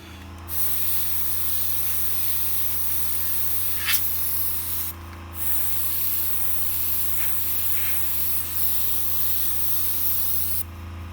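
An airbrush drying paint on a stencilled fire design blows as a continuous close hiss of air. It pauses briefly twice, with a faint steady hum beneath.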